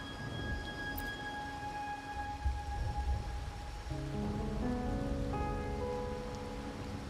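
Steady rainfall in Raguna, a video game setting, a continuous even patter on surfaces throughout, with soft musical tones drifting over it and no voices.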